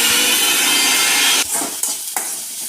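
Drumstick flowers and egg being sautéed in a pan for a stir-fry, a loud continuous sizzle with a few scraping stirs of a spatula near the end, no talk.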